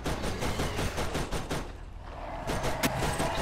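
Rapid automatic gunfire in Borderlands, dense bursts of loud shots with a short pause midway, then another burst with a sharp crack, close and dominant.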